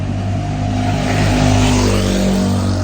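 A car's engine drones steadily from inside the cabin during a road trip, a loud, constant low hum with no talking.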